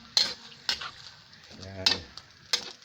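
A spoon stirs malunggay leaves into a sardine dish in a pan, with a few sharp clinks and scrapes against the metal over a faint sizzle and a brief voice.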